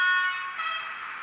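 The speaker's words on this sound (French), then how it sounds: "Un petit coup de klaxon." A single short electronic horn blast from a model train controlled by an ESU ECoS command station, thin and tinny, sounds alone and holds steady before fading slightly.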